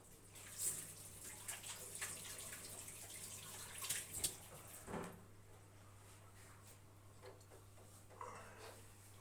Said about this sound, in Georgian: ხელები დავიბანო